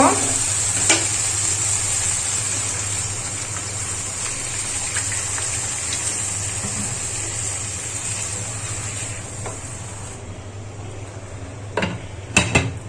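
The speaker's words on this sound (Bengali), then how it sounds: "এখন সেদ্ধ হওয়ার জলটা দিয়ে দিব।" Cooking water poured into a pan of well-fried, spiced food on the stove, giving a steady loud sizzle and hiss throughout, with a few brief utensil clinks near the end.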